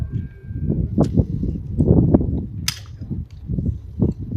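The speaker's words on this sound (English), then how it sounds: "So that's the Sten gun." Sten gun submachine gun firing at an Armed Forces Day event at a war museum, sharp irregular shots and short bursts over a constant low rumble of outdoor crowd and machinery noise.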